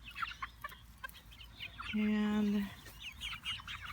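Young nine-week-old chickens, ISA Brown, Asian and Barred Rock birds, cluck and chirp softly near by, with one drawn-out call in the middle and a brief spoken word.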